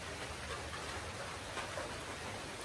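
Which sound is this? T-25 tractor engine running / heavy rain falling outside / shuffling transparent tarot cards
heavy rain falling outside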